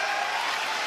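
Wrestling arena crowd at an AEW Dynamite show in Bosnia, a steady wash of cheering and applause from a large audience, loud and continuous with no clear break.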